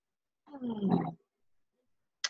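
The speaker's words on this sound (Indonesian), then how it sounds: "Aku takut harimau." A tiger in a children's fairy tale lets out a loud, close, rasping roar lasting under a second, followed after a pause by a brief sharp noise.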